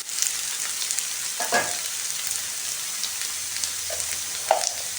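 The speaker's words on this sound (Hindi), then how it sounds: "आलू को फ्राई करते हुए यहाँ पे 3 मिनट हो गए हैं।" Potatoes frying in a pan for an egg and potato curry give a steady, loud broadband sizzle throughout, with a few brief scraping stirs breaking through; no voices.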